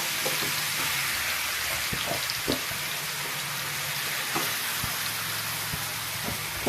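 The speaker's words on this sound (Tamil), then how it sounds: "எண்ணெய் நல்லா சூடு ஏறிடுச்சுங்க இப்போ நம்ம நண்டா போட போகிறோம்" Crab pieces dropped into hot sesame oil set off a steady, close, broadband sizzle and crackle, with a few sharper pops and spits scattered through. No one speaks over the frying.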